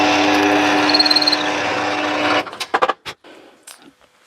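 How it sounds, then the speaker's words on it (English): A power drill whirs steadily while boring a centre hole in a woodturning workpiece, running for about two seconds before stopping, followed by scattered knocks and handling sounds. "Find the centre of the workpiece and then drill a hole in there big enough to accept this"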